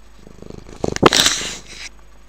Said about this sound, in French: C'est quoi ce petit chat qui fait sa loi de chat?